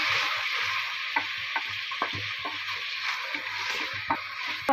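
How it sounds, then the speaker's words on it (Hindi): Tomatoes and onions fry in a pan for prawn biryani, giving a steady close sizzle broken by scattered scrapes and taps of a stirring spoon, with no talking. "और अब हम टोमेटो को भुनेंगे प्याज के साथ।"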